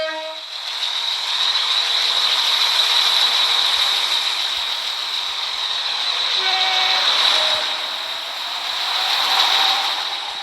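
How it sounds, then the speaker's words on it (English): A train runs through a station at Faraday Road without stopping, a loud sustained rushing roar that swells and eases as it passes close by, alone with no talk. "The train now approaching platform 2 does not stop here."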